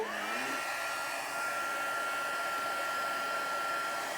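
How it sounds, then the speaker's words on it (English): A steady, loud whooshing of a heat tool blowing hot air, continuous with a faint high whine throughout, no talking. "Now we're going to make some noise. Here's our heat tool."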